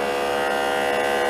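A fan in a small underwater device with a depth sensor hums steadily, a loud close electric buzz with a strong even tone and no talking.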